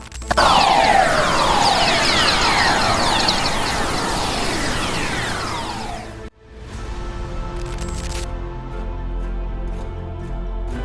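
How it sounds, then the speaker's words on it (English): Dense, hissing noise recorded in space with eerie descending whistling tones sweeping down for several seconds, then a sudden cut to a quieter, humming static background. "newly declassified audio tapes have just revealed that there might really be music in"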